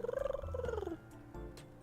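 A person imitates a cat's purr while stretching, a close, rolling, rhythmic purr lasting about a second, then fading into quieter vocal murmur.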